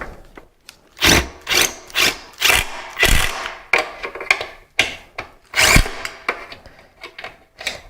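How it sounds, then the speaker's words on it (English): Power driver tightening screws into ceiling fan blades, a series of short, loud whirring bursts in an uneven rhythm, close by and separated by brief pauses, with no talk. "Don't set your driver too hard, or you could end up cracking the blades"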